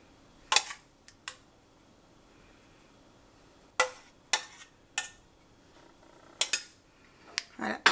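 A spoon clinks sharply against baking dishes as sauce for chicken cordon bleu–style cassolettes is shared out: sporadic close metallic taps and scrapes, separated by quiet gaps, with no talking.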